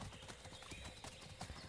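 A horse's hooves clip-clop at a steady walking pace in an outdoor setting, with broadband background noise underneath throughout.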